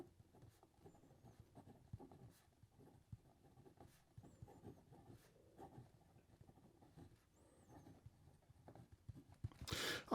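A fine-nib fountain pen scratches across paper in a faint, close series of short strokes and pauses, with a louder rustle right at the end.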